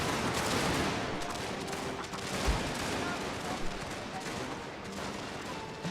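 Dense, continuous battlefield gunfire from massed musket volleys in the Total War strategy game, a steady crackling barrage with no pauses and a voice talking underneath.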